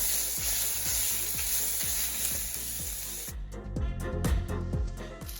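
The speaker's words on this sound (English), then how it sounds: "So now I'm going to fry the steak for 2 minutes." Steak sizzles in a pan, a loud continuous hissing fry broken by a regular series of stirring or scraping knocks, the hiss dropping slightly partway through.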